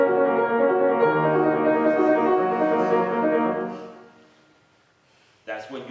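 Piano played with every voice at the same level, a dense sustained sonority that rings and decays into near silence, followed by a brief sound at the end.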